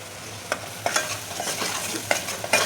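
Masala stirred in hot oil in a home kitchen, with a sizzling fry underneath and a series of sharp scraping stirs at irregular intervals, close up and with no voices.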